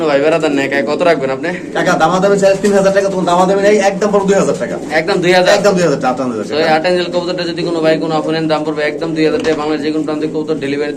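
Mundian pigeons coo at a seller's stall, a steady layered murmur of calls that runs the whole time under voices and busy market chatter.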